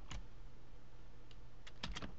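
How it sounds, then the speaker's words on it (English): Keys tapped on a computer keyboard, a handful of quiet, crisp clicks, one early and a short cluster near the end, over a faint steady hum. "So I'm going to type in ZeToE"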